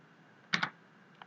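A single computer keyboard Enter key pressed in a double clack, fairly close and crisp, followed a moment later by a faint lighter tap, in a quiet room with no talk.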